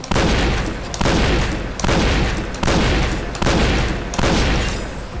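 A shotgun in the online shooter Point Blank fires five loud, booming blasts at a steady pace, about one every 0.8 seconds. Each blast decays before the next one hits, with no talking.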